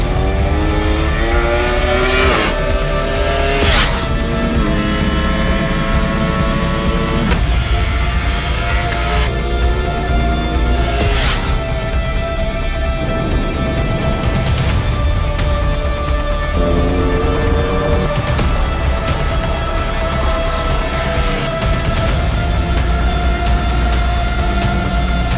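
A Ducati Panigale V4 superbike at full throttle on the Valencia circuit, its loud engine wailing up through the gears with sharp upshifts and downshift blips, passing close and continuous with no talk.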